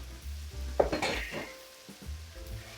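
Shrimp frying in butter and olive oil being stirred in a pan, a sizzling hiss with a sharp utensil scrape and clatter against the pan early on, then quieter frying with light pan knocks.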